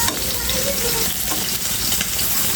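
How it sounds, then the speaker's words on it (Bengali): Chopped onion hits hot oil for a bharta and is stirred, producing a dense, loud, continuous sizzle close up with faint stirring movement underneath. "দেখো পেঁয়াজ কুচিটা দিয়ে দিচ্ছি।"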